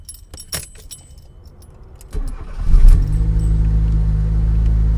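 Keys jingle, then a Fiat Cinquecento's engine cranks and catches, settling into a loud, steady idle close by.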